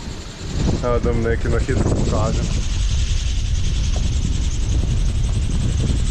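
Strong wind at sea aboard a sailboat buffets the microphone in a steady roar, with a person talking briefly near the start.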